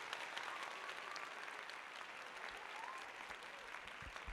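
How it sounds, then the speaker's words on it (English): An audience claps in sustained, fairly faint applause, an even crowd of hands with scattered louder claps and a few low thumps near the end. "Let's go ahead and give it applause."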